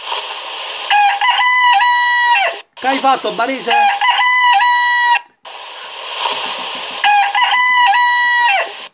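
A rooster crows three times in loud, close succession, each call a long wavering cock-a-doodle-doo, with a man's brief Italian speech between the first and second crows.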